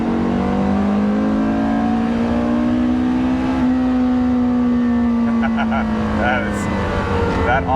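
Porsche Carrera GT engine loud and close, a steady high-revving wail that climbs and holds, then eases off throttle near the end with crackling overrun and pops; faint voice traces in the background.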